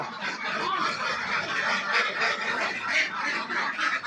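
A group of about fifty ducks on a duck farm quacks and chatters continuously nearby, overlapping calls forming a steady noisy stream with no clear pauses.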